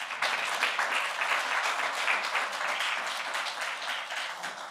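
A ceremony audience at a book launch applauds warmly, a dense, sustained wash of clapping that holds steady throughout.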